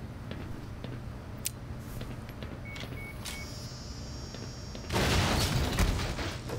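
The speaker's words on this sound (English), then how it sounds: "Maybe I throw a grenade in there, maybe?" A grenade in the video game Black Mesa blows up a turret, a loud broadband blast that bursts in late and rumbles on after a stretch of quiet game ambience with faint beeps and ticks.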